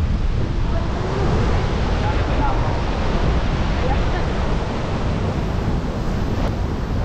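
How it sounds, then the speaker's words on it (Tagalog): Strong ocean waves crash and roar along the shore near the Bangui windmills, a loud continuous surge mixed with heavy wind buffeting the microphone. "Makikita nyo dito yung malakas na hampas ng alon dito sa dulo."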